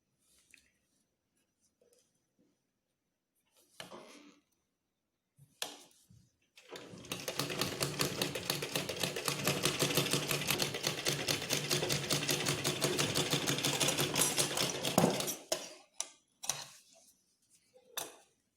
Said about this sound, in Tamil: இப்போ 2 பீஸ்க்குமே வந்து பாருங்கள் கழுத்தும் ஆம்கோலும் வந்து மடித்து உருட்டி தைச்சாச்சு.